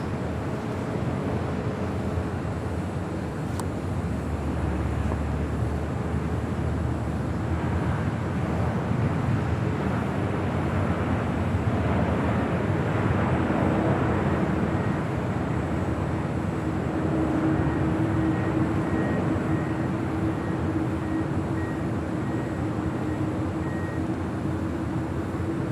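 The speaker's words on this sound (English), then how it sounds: "Qatar Airways Flight 739 coming up from Doha, the A350-1000" A Qatar Airways Airbus A350-1000 arriving from Doha at LAX, a continuous loud jet roar that swells and holds steady, with low engine rumble and broadband rush throughout.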